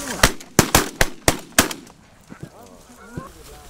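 About six rapid, loud gunshots ring out close by during a waterfowl hunt, then fade into honking goose calls and faint voices.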